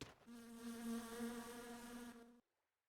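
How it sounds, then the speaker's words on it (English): Flies buzzing around the player in the video game My Summer Car: one close, steady droning buzz that holds for about two seconds and then cuts off abruptly. "It's the sound of the flies buzzing around me."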